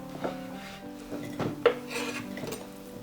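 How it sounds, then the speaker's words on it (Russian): A knife chops raw fat into cubes on a board in a few irregular taps and scrapes, close by, with faint background hum. "И также сейчас нарезаем жир."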